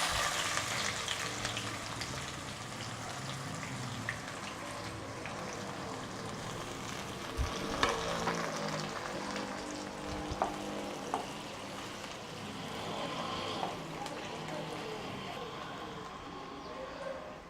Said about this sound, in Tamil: சின்ன சின்னதாக வெட்டி வச்சுருக்கிற சின்ன வெங்காயத்தை போட்டு சேர்த்துக்கிறோம்.